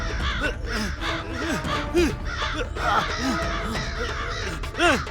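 A crow caws repeatedly in an outdoor scene, loud, harsh calls arriving in quick irregular bursts over steady background noise, with several especially strong calls near the middle and end.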